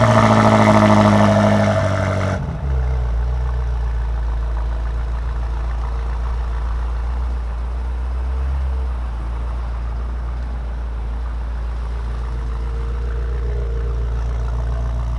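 A 2022 BMW M8 Competition Convertible's 4.4 liter 617 horsepower twin turbo V8 gives a loud, close rev that cuts off after about two seconds, then settles into a deep, steady idle rumble with no voices.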